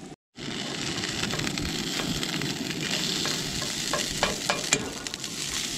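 Sticky rice fries in a pan for fried rice, giving a steady close sizzle with scattered crackles and pops after a brief gap at the start.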